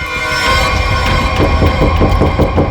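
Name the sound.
knocking on something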